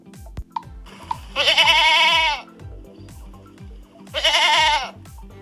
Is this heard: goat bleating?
yes